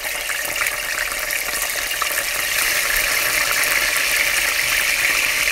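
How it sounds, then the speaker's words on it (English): Plantain slices, previously soaked in water, frying in hot oil in a skillet give a steady, loud sizzling hiss with fine crackle throughout, close up and without talk. "So I'm going to fry it now."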